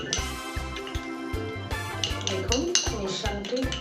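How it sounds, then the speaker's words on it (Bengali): Spoon stirring a turmeric powder mixture in a bowl, producing a quick irregular run of metallic clinks and scrapes against the dish, close and fairly loud throughout. "তারপর মিশ্রণটি ভালো করে মিশিয়ে নিতে হবে।"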